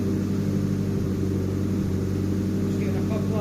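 A rebuilt Nissan Pulsar GTiR engine idles with a steady, close droning rumble, and a couple of faint little burps from the exhaust pop through around the middle.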